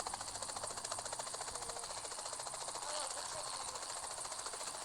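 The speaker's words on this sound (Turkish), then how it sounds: "Uçak gidiyor." A steady, buzzing aircraft engine drone in a video game, with a rapid rotor-like pulse, continuous and unchanging throughout, fairly quiet and electronic in character.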